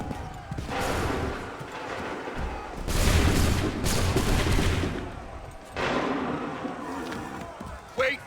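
Bursts of crackling musket fire from a line of soldiers in Assassin's Creed 3, several loud ragged volleys separated by pauses, with battlefield noise and shouted voices between them.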